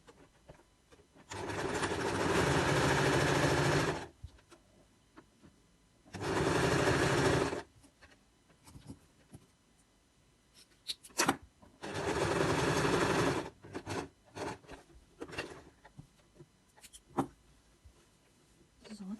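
A sewing machine stitches gold patchwork fabric in three loud, steady whirring bursts, each lasting a few seconds, separated by quieter handling clicks and short pauses.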